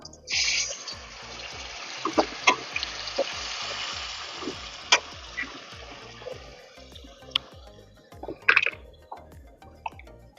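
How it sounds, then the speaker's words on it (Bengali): A loud burst of water hitting a hot pot of browned beef tehari sets off strong sizzling that settles into steady frying, with a few utensil clinks and scrapes. "এখন এই সময় আমি একটু পানি অ্যাড করবো"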